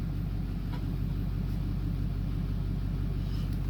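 A Duramax LMM pickup truck idles with a steady low engine rumble while being switched back to two-wheel drive, with one or two faint clicks over the drone.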